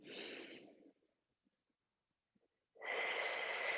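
A long, deep breath exhaled steadily for about a second, then quiet, then another strong breath begins, close and breathy with no talking.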